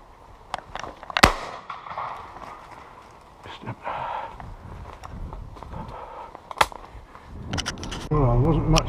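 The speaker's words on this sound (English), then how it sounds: "We had a couple of shots and brought one down" Shotgun fire at pigeons during a mixed-bag shooting outing: a sharp, loud report near the start, a second crack later on, outdoor rustle and footsteps between, and people talking at the end.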